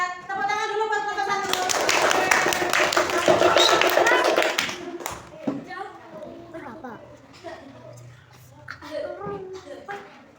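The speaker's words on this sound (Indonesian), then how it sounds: "Tepuk tangan dulu buat kelompok" Children at a school clap for a classroom group, a short burst of hand claps that rises and fades, with kids' voices and chatter before and after.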